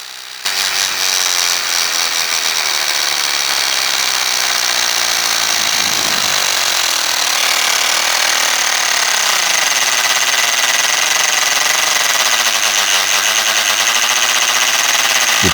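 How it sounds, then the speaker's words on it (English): Generic portable electric air pump inflating the front tire of an electric bicycle, a loud continuous buzzing drone close by that holds steady throughout after a sudden start, with no talking. "I am going to re-inflate the tire with a generic air pump and again with the Tower Top pump."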